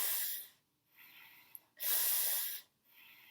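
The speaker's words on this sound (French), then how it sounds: "Vous prenez, vous aspirez l'air en fait par les dents." Yoga snake breath, air drawn in sharply through the teeth: two long hissing inhalations with a shorter one at the end, close and fairly quiet, separated by silent pauses.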